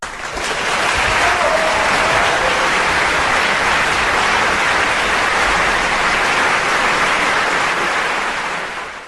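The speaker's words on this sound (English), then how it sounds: "give head coach Matthew Brown and both women's and men's soccer programs a round of applause" An audience applauds for a university's head soccer coach and its men's and women's soccer programs, with a dense, steady wash of clapping that swells in, holds loud and even, then fades slightly at the end.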